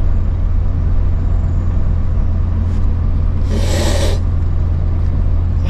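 A car accelerating hard at full throttle gives a loud, steady engine roar that fills the whole stretch, with a brief hiss near the end.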